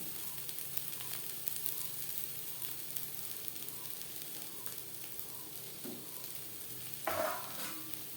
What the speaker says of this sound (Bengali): কাঁচলের সাথে কাঁচা লঙ্কা বেশ ভালো করে মিক্সড করে দেবো এক দু মিনিট নাড়াচাড়া করে নেওয়ার পর